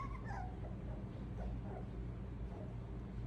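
A litter of five young puppies gives soft, faint whimpers and occasional high yips over a low background rumble, close by and scattered, with no talking.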